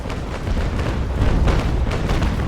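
Ship cannons fire in the naval combat game Naval Action, a loud, dense barrage of overlapping booms and rumbling blasts rolling on continuously, close and unbroken.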